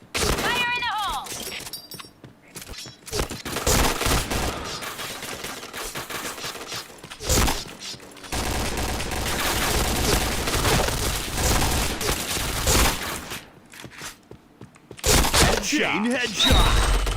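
Rapid bursts of gunfire from the online shooter game Point Blank, loud and dense with sustained automatic volleys, brief gaps between bursts, and short electronic chimes mixed in.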